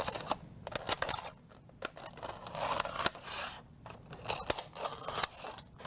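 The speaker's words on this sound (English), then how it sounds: "I'm gonna bang this out with my X-Acto knife real quickly." An X-Acto knife slices through paper to cut out flower petals, a quiet close-up run of irregular scratchy cuts and rasping strokes with short pauses between them.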